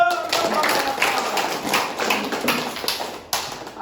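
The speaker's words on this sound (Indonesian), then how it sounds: "tepuk tangan dulu." Students in a classroom give a short round of applause, a loose, fairly close patter of individual claps over a few seconds.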